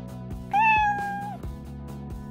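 A house cat gives a single clear, drawn-out meow close by, over a steady background of rhythmic thumping music.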